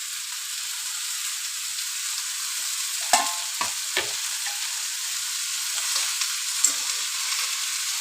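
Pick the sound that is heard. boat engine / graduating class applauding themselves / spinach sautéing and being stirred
spinach sautéing and being stirred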